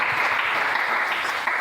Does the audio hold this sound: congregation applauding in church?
yes